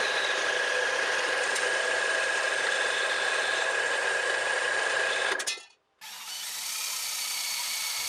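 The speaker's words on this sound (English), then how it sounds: "The first thing we need to do is drill some holes into the pipe." A power drill whines steadily and loudly drilling holes in a metal pipe, cuts out briefly, then spins up again and keeps running, close up with no talking.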